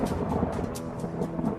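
A violent thunderstorm rumbles and crackles with steady rain-like noise and a series of bursts at an even pace, with no voices over it.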